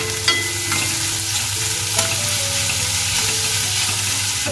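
Chopped onion frying in a pan for a fasting-day vegetable dish, a loud continuous sizzle with occasional scrapes and clinks of stirring, close up and steady, no voices.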